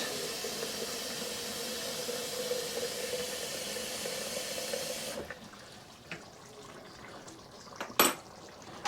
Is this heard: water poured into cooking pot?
yes